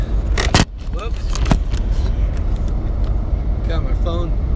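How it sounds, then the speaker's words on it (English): A phone propped on a parked car tips over with a couple of sharp clattering knocks and a scrape, up close, followed by faint rustling and muffled handling noises against a low outdoor background. "Got my phone resting on the car there and fell over."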